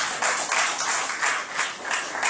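A church congregation claps together in a steady rhythmic beat, a full room of hands striking roughly twice per second with no speech over it.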